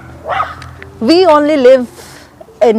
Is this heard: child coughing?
no